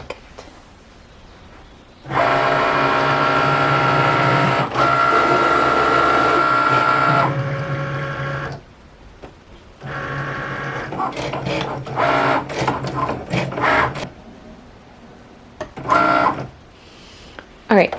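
A Cricut cutting machine slices white vinyl on a mat, giving a steady motorized whir and buzz that starts abruptly and runs with short pauses and changes in pitch, then ends in bursts of shorter mechanical movements.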